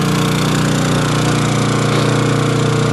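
A Honda generator fueled by natural gas runs steadily and loudly up close, a constant rough engine drone with a pulsing rumble underneath.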